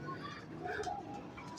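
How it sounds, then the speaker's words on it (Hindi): A female pigeon in a breeder's cage setup gives soft, low coos, faint and close, with light background noise. "ये मेरा 41 नंबर कबूतर है"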